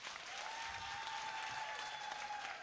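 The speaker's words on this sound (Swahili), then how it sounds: "Tumpigie makofi." Members at a SACCO annual general meeting clap in a sustained, even burst, a crowd's applause with no speech over it.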